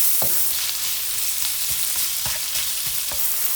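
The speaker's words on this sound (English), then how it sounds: "And then add your onion." Onion frying in hot oil with salt, a bright, steady sizzle close to the pan, punctuated by several sharp taps and scrapes of stirring; no voices.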